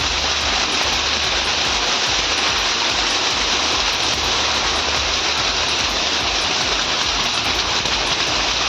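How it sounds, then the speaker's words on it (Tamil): Heavy hailstorm rain in the Thalavadi area of Erode district, Tamil Nadu, pours down as a dense, unbroken roar of falling water and hail, steady and loud throughout with no voices. "ஈரோடு மாவட்டம் தாளவாடி பகுதியில் பெய்த ஆலங்கட்டி மழையால் பனிப்பிரதேசம் போல காட்சியளித்தது."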